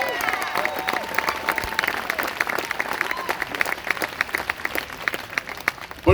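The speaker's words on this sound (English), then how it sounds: "let's just give a round of applause for all the bivalve aquaculturists in the great state" Applause from an audience at a political speaking event in Brunswick, Maine, honoring bivalve aquaculturists: dense, steady clapping with some cheers, sustained throughout.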